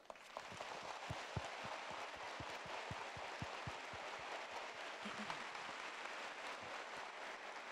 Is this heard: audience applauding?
yes